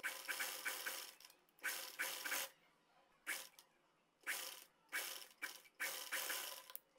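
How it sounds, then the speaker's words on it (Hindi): Sewing machine stitching fabric to attach a kurti neck, running in short bursts of rapid mechanical clatter separated by quiet pauses, close and fairly faint. "यहाँ से इसके ऊपर सिलाई लगाकर इसको अटैच कर देंगे"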